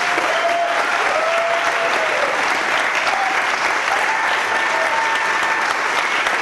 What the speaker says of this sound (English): You may applaud if you want to.